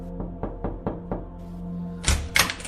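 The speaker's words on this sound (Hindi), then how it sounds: "अशोक ने दरवाजा खटखटाया" Five quick, evenly spaced knocks on a wooden door, crisp and close in a quiet room, followed by two heavier thumps that could be the door being handled.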